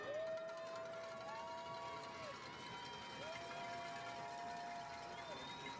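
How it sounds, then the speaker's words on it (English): Crowd noise fills the stands at a Connally Cadets vs. Center Rough Riders high school football game, a steady roar with sustained horn-like tones rising above it while an announcer talks over it. "the crowd is getting into it now, shaking these stands"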